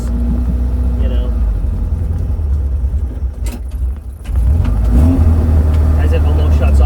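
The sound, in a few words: old car engine revving, almost stalling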